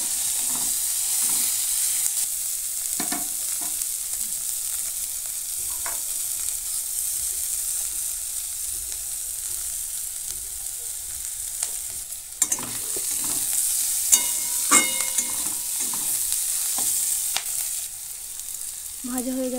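Mixed vegetables with onion fry in a pan under a constant close hiss, broken by occasional spatula knocks and scrapes as they are stirred, with no talking.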